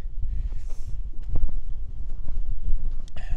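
Wind blows steadily across an open, snowy fell on Skiddaw in winter, a loud low buffeting rumble on the microphone with gusts throughout and a brief rustle near the end.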